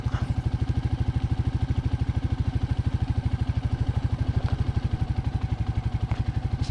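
A Royal Enfield Meteor 350 motorcycle engine chugging along off-road in second gear on light throttle, a close, steady low-pitched thump of rapid even pulses.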